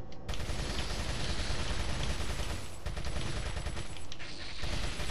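Rapid TMP submachine gun fire in the video game Resident Evil 4, a dense, loud continuous stream of automatic shots with brief pauses between bursts.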